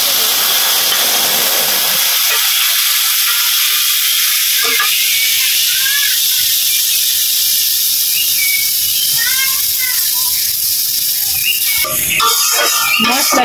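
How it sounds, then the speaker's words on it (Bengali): Cumin and ground spices fry in oil in a pan for mustard hilsa in a village kitchen, giving a steady loud hiss and sizzle throughout with a few faint crackles and a brief burst of clatter near the end. "মশলাটা ভালোভাবে কষিয়ে নেব"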